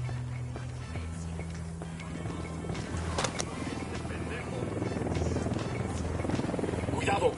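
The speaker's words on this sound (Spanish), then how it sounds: "Cuidado, un helicóptero de la unidad." Unit helicopter rotor noise, a steady low drone with broadband wash building over several seconds, with voices and outdoor commotion mixed in.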